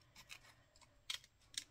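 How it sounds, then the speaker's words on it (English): Paper cut with a pair of scissors for a craft embellishment, a few quick crisp snips, close and quiet. "I'm just going to do it really quickly with a pair of scissors"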